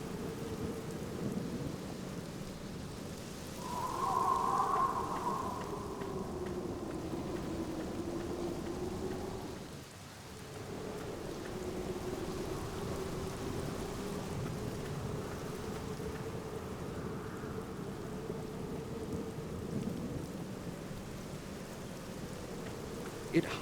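Steady rain falls in a gloomy graveyard in The Black Mirror game, a soft continuous hiss of drops on surfaces with a low rumble underneath and a brief dip partway through.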